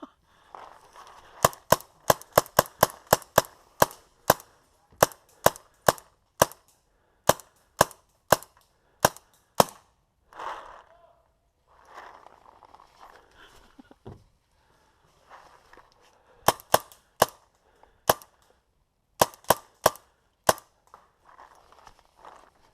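Paintball guns fire outdoors in a sharp volley, a rapid burst of close cracking shots followed by spaced single pops, then more bursts after a quieter stretch with rustling movement.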